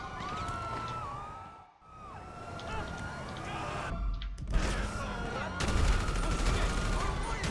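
Rapid explosive-bullet gunfire crackles and booms in GTA 5, mixed with wailing police sirens and a steady background roar, growing denser toward the end.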